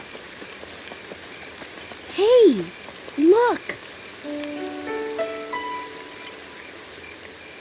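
Rain falls steadily outside a tent at night, an even, close hiss that runs under a brief exclaiming voice and a few short sung or tonal sounds.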